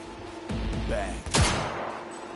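Gunfire in Cyberpunk 2077: a few sharp shots and a burst of fire, close and loud, with shouting voices mixed in.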